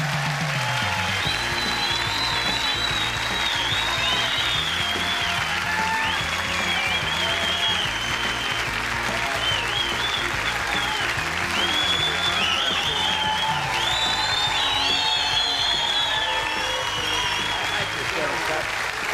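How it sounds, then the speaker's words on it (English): A studio audience at a televised Australian football show claps steadily for a long stretch, a continuous crowd wash with music and voices mixed underneath. "I hate this sort of applause, but keep it going for a while, folks."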